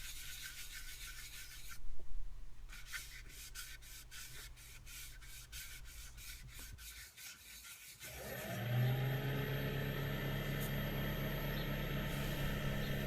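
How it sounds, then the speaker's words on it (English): A soft, steady rubbing rasp of kitchen towel applying sanding sealer to a spinning idigbo wood bowl, with a lathe motor humming throughout and getting louder partway through. "just wiping the dust off with a clean piece of kitchen towel, then applying some sanding sealer"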